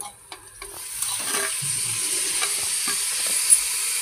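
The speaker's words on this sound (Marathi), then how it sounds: "आणि थोडं स्टर करून घेऊया, हलवून घेऊया।" Fenugreek and spinach are stirred into masala frying in oil in a pressure cooker, a steady close sizzle with soft scraping strokes of the spoon running through it, without talk.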